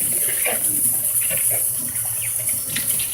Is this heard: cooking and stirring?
no